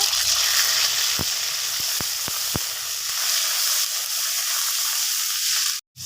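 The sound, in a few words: onion paste, cardamom and bay leaf frying in hot oil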